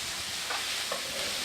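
Tomatoes sizzling in a hot pan as they are stirred, a steady close frying hiss with faint scraping from the spoon.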